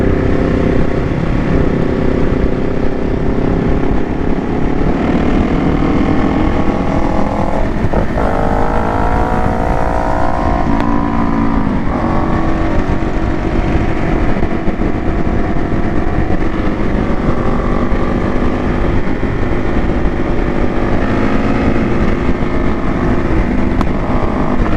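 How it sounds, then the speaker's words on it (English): A motorcycle riding along, its engine droning loud and steady for the whole stretch, with a short rising rev partway through and constant wind-like roar over it. "but I am on my motorcycle."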